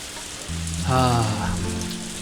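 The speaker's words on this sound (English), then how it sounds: "Yeah, it's a lot of rain, certainly." Rain in the Harvest Moon game hisses as a steady wash of noise, with a low tonal hum and a short rising musical swell in the middle, fairly loud throughout.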